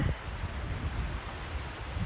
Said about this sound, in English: Urubamba River